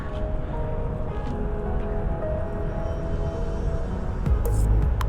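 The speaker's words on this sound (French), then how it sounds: "Et ce que vous entendez, c'est les vapeurs de soufre." A steady broadband hiss and rumble of sulfur vapour venting from a volcano in Indonesia, continuous and fairly loud, swelling slightly near the end.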